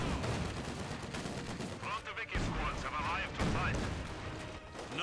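In the World War II strategy game Company of Heroes 2, the Lublin battle fills with dense gunfire and artillery blasts: continuous crackling volleys and heavy booming impacts under a mix of game voices and a player's speech.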